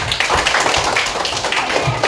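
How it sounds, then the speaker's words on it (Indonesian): Classroom clapping for a student during an Islamic religious education lesson, a short burst of many small hands clapping quickly and unevenly, close and fairly loud. "Tepuk tangan dulu untuk"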